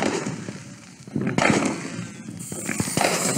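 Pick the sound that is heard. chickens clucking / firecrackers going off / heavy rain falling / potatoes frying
firecrackers going off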